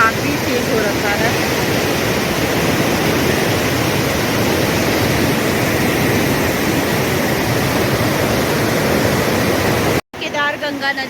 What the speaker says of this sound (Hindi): आज माँ गंगा का जल प्रवाह काफ़ी तेज हो रखा है।